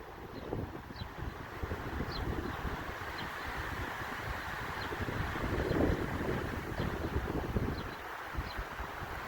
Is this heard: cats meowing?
no